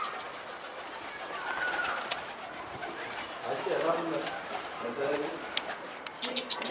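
Pigeons coo softly amid a busy, noisy background, with murmured voices talking nearby as the birds move into their cage.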